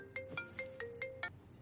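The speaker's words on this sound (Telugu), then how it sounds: "కొంచెం ఇంపార్టెంట్ ఫోన్ కాల్" A phone ringtone for an incoming call plays six quick, evenly spaced electronic chirps with a sustained tone underneath, fairly quiet and clear, with no one speaking.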